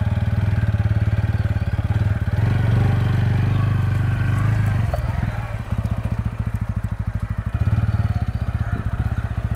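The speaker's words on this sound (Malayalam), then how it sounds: "നമുക്ക് എന്തായാലും ഒന്ന് വണ്ടി ഒന്ന് റൈഡ് നോക്കി നോക്കാം." A TVS Ronin 225 Special Edition motorcycle with a 225 cc engine is ridden, its rapid, even engine pulse throbbing loudly and steadily, dipping briefly midway before picking back up, with a voice talking over it.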